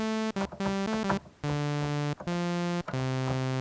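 A bright, buzzy sawtooth waveform from a Behringer CAT synthesizer plays a rhythmic run of notes, short ones first and then longer held tones, with tiny gaps between.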